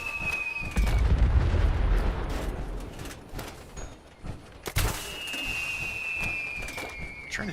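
Weapon fire during a PvP fight in Fallout 76 with an automatic build: a loud low boom starts the clip, followed by scattered bursts and pops, a sharp hit near the five-second mark and a whistling high tone over the game ambience.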